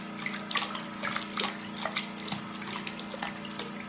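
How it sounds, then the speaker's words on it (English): Water is poured and splashes over a face being rinsed, a steady close trickle broken by a few louder splashes and drips, heard alone without talk. "you just take water and then you pour it over your face like"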